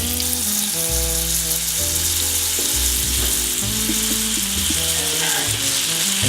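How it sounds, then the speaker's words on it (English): Loud, crackling sizzle of water hitting a hot pan, continuous hissing with sputtering pops, close up and without speech. "if you splash the water and it sizzles just like that"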